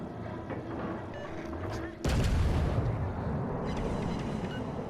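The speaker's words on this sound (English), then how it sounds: "So we're just going to nail him with some of these HE shells" Naval gunfire from a Kronshtadt tier 8 cruiser firing HE shells in World of Warships Legends, a sudden loud boom cutting in midway and rolling into a sustained rumble over steady background game noise.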